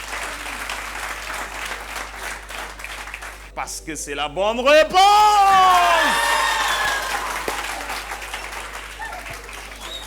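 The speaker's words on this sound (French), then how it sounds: "Est-ce qu'on peut applaudir très très fortement pour eux, les deux établissements?" A room full of people applauds steadily throughout, while a voice shouts over the clapping and cheers briefly swell in the middle, at a French high school awards ceremony.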